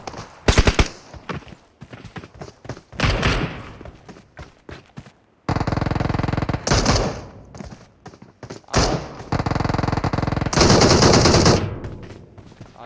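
Automatic gunfire in a PUBG match, with loud close bursts of rapid shots alternating with short pauses and single thumps, repeated several times across the stretch.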